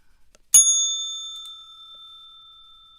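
A single bright metallic bell strike, sharp and clear, followed by a long ringing tone that slowly fades in an otherwise silent space.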